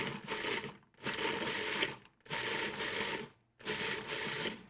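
An onion being chopped in a food processor for gazpacho, four pulsed bursts of roughly a second each separated by brief pauses, loud and close.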